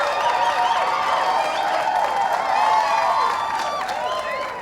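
A crowd applauds and cheers steadily after an aerobics routine at a 1995 national championship, a dense, continuous wash of clapping and shouts in a large hall that fades slightly at the end.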